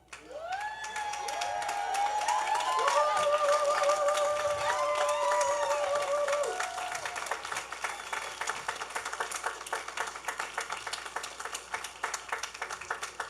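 Crowd at a college commencement ceremony applauding and cheering the newly graduated class, dense sustained clapping with whistles and shouts, strong at first and then thinning into scattered claps, with a voice over a public address system.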